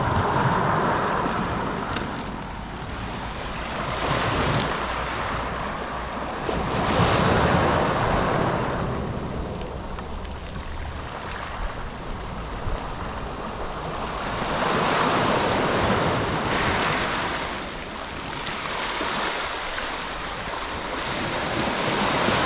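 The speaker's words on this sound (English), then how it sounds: "enjoy the sound of the sea" Sea waves roll in and break on a Scottish shore in slow surging swells, loud and close, with wind buffeting the microphone and no talk.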